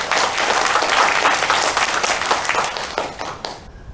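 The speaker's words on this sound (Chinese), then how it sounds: "好，我们掌声鼓励他一下。" An audience gives a loud, sustained round of applause for radio host Sun Lan, many hands clapping together close by and then tapering off toward the end.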